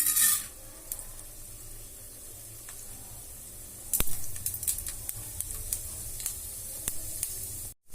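Urad dal dropped into hot oil for tempering, a sharp sizzle bursting up at the start, then a steady frying hiss with crackles that swells again midway before cutting off.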